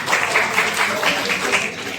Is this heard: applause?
yes